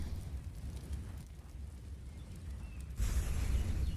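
Grenade blast in a Counter-Strike pro match between SK and BiG at the Krakow Major, a sudden broad rumbling burst at the end following low steady game noise.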